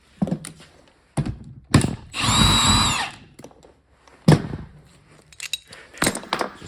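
A power tool whirs for about a second as it spins parts off a Ford 9-inch axle from a 1978 Ford Bronco, surrounded by scattered close metallic clunks and thumps of the parts being handled.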